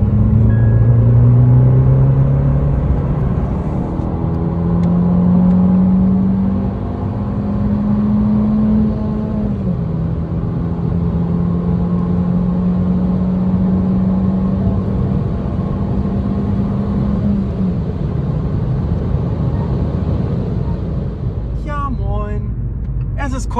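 A car accelerates up a motorway on-ramp, the engine drone rising steadily in pitch through the gears with a brief drop at one shift, loud and close inside the cabin, with steady road rumble beneath.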